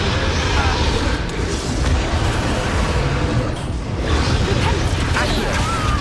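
Confringo spell explosions go off in combat in Hogwarts Legacy. Dense booms and crashes layer over loud continuous game effects, with a voice speaking over the action.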